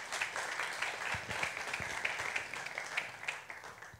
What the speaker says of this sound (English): Please give him a warm round of applause and welcome Yehuda.